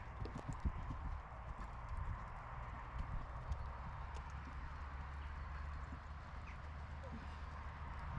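A horse trots during a riding session, the hooves landing in a steady rhythmic clip-clop, faint and fairly close over a low continuous rumble, with a voice talking over it.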